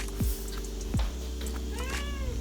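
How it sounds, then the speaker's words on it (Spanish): A house cat meows indoors, a clear rising-and-falling cry near the end of the stretch, with two short low thumps earlier and a steady room hum beneath; no one talks. "está mi gata dando por culo"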